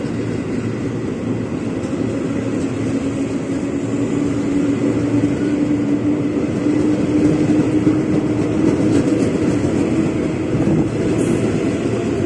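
An electric KRL commuter train rumbles steadily as it departs Manggarai station toward Bekasi and Cikarang, a continuous close, even roar with a faint motor whine and no talk.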